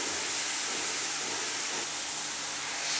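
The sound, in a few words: vegetables and corn sautéing lightly in a pan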